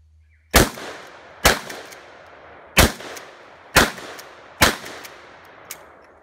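Five sharp, loud gunshots about a second apart, each with a short ringing decay, then a fainter sixth pop.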